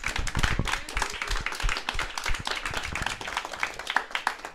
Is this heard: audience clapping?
yes